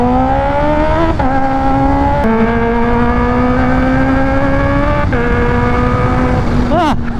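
A 2015 Kawasaki H2 motorcycle engine drones loudly at a steady high idle, with brief blips of revving and a sharp rise near the end, close and continuous throughout.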